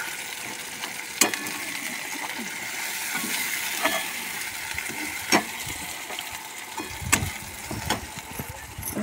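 Tomato masala paste fries in a pan for a fish curry, giving a steady close sizzle with a few sharp clinks and stirring knocks spread through it.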